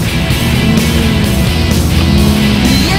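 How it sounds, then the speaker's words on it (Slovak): A Ferrari engine idles steadily just after starting, a continuous loud low rumble that stays even throughout without revving. "OK, naštartované."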